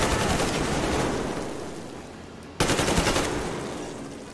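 Sustained automatic gunfire in the Metro Exodus video game rattles out in two long, dense bursts separated by a sharp break, loud and close with no talking.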